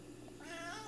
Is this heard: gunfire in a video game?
no